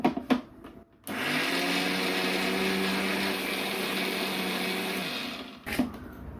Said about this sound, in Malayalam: വെള്ളം ഒഴിച്ചു കൊടുത്ത് നമുക്കിതൊന്ന് അരച്ചെടുക്കാം.